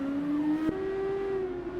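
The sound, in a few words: race car engine leaving the pits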